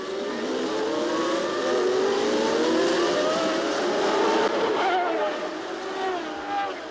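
Indy race cars accelerate away at the green-flag restart of the 1988 Long Beach street race, a rising blend of engine whines sweeping upward in pitch, loud and continuous, with commentary voiced over the roar.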